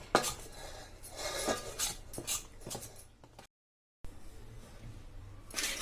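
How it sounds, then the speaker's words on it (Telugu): Spices are stirred into paneer Manchurian, a close clatter of a spoon scraping and knocking against the pot in uneven strokes, cut by a short gap of silence near the end. "చూయించిన మసాలాలన్నీ వేసుకొని బాగా కలుపుకోవాలి."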